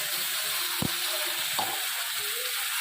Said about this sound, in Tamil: போட்டு இந்த எண்ணெயிலே வதக்கிட்டு நம்ம அரைச்சி வச்சுருக்க இந்த மசாலா,